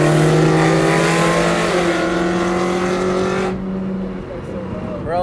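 A BMW F80 with Valvetronic exhaust and a tune revs hard, its engine drone loud and close, then cuts off abruptly, leaving a quieter rumble.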